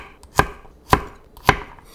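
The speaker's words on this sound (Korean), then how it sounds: "간장염은 통마늘 5개를 3등분해서" Knife chopping whole garlic cloves into thirds on a cutting board: three sharp, evenly spaced thunks about half a second apart, close and clear with no talking.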